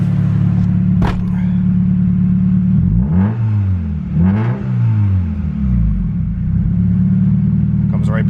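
A Honda D16Z6 car engine fitted with a big HX35 turbo idles loudly, then revs up in a few quick swells before settling back, heard close with a deep steady drone.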